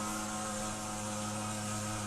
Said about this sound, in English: That is the sound of a machine doing work on the coastal road